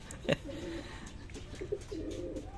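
A rescued racing pigeon gives soft, low cooing calls, a few murmured phrases close by over a faint background hum, with one brief sharp knock near the start.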